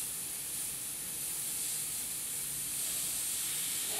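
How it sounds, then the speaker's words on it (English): A paint spray gun sprays nearly full-strength paint, giving a loud, steady airy hiss that continues without break. "make sure it's still spraying"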